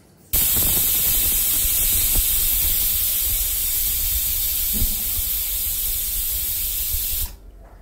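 A kitchen pressure cooker releases steam through its whistle while daliya khichdi cooks, a loud, steady hiss that holds for about seven seconds before cutting off abruptly.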